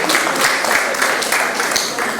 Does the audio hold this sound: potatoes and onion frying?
no